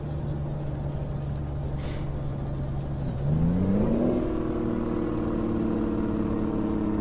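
A truck engine with a turbo in American Truck Simulator drones steadily, then revs up with rising tones and a turbo whine, staying loud and close with no talk.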